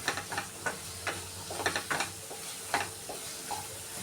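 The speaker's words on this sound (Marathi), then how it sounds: "थोडंसं बारीक फ्लेमवरच असं हलवून घ्यायचं मसाला." Masala cooking over a low flame, soft sizzling broken by repeated scraping strokes of a spoon stirring in the pan, close and fairly quiet, no talk.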